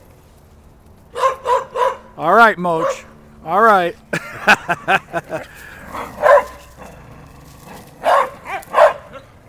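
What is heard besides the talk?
dogs barking while playing together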